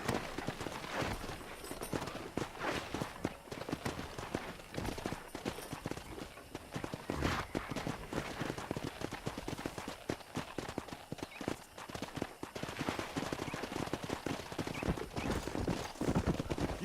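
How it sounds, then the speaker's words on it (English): Horse hooves clatter in Red Dead Redemption as horses are wrangled on a ranch, with a continuous busy clip-clop of several animals and occasional louder thumps throughout. "Let's see if we can't wrangle some horses."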